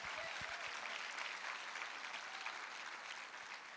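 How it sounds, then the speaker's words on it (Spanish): A church congregation applauding, continuous even clapping from a crowd heard at moderate distance, with a faint voice briefly audible near the start. "Alguien déle un aplauso al Rey."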